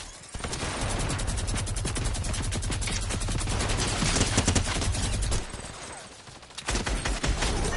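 Dense, continuous gunfire fills a 50 vs 50 Fortnite battle, rapid overlapping bursts and machine-gun rattle hammering on almost without a break, dipping briefly before more shots crack in.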